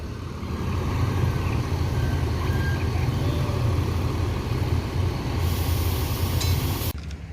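A Sembodo bus pulls out of Terminal Barisolo with a steady, loud low diesel rumble that holds for several seconds, then cuts off sharply near the end.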